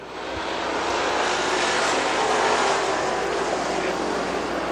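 Econo Bomber race cars at Dixie Speedway give a steady, loud, broad engine roar that swells slightly and holds throughout as the heat race gets underway.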